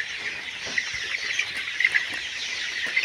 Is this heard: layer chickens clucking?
yes